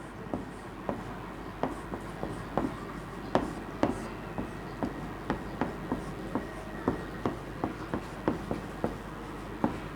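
Chalk or marker tapping and scraping on a board while a matrix transpose problem is worked out, in regular short strokes and taps at a steady rhythm, moderately close with a faint room hum underneath.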